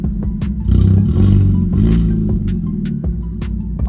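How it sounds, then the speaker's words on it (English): A Genesis car engine with a newly upgraded turbo runs close by, a steady low idle that swells into short revs, with light mechanical clatter and ticking over the rumble. "it's been weeks since I've heard this car on"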